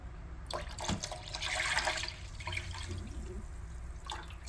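Pickling liquid made of vinegar and soju, saved from last year's pickled peppers, is poured onto garlic. A close, splashing, trickling pour swells in the middle and then tapers to drips, with no voices.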